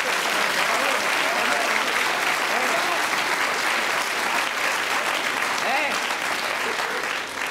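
Studio audience at a French televised comedy theatre show clapping loudly and steadily throughout, a dense continuous burst with faint voices underneath.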